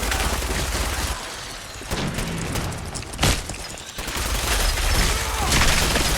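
Video game gunfire aimed at Mirelurk eggs: dense bursts of rapid shots and booms, loud and close, with a brief pause in the middle before the firing resumes.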